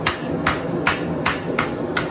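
Hammer blows on metal as a tip is forged, shaped on the edge of the hammer: six sharp, evenly spaced ringing strikes at a steady rhythm, close and clear with no talk.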